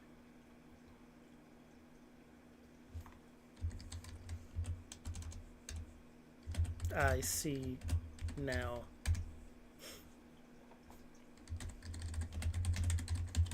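Someone types in bursts on a computer keyboard, clicking steadily close by at a low level, with a short stretch of quiet talking partway through.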